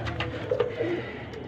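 Teddy Kamagar mix pigeons cooing close by in a breeder setup in Lahore, a few soft low throaty coos over faint background noise.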